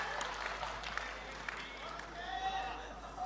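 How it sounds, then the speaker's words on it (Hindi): Applause from an audience at a Hindi comic poetry gathering (kavi sammelan) in Nimbahera, a steady mid-level patter of clapping with crowd noise and voices mixed in throughout. "तालियां बजनी चाहिए"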